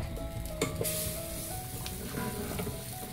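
Curry leaves and dried chillies tempering in hot oil for a brinjal sambar, a steady close sizzle with light crackles and a few sharp pops throughout, no voices.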